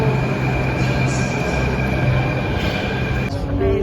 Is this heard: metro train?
yes